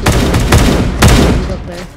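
Loud, punchy video game gunshots, two heavy bursts close together, followed by quieter rumbling as the firing fades.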